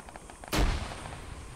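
Gunfire in a squad battle on King of the Hill: a single loud, sharp blast with a booming low end that rings out and slowly decays over a quieter background, with no talk.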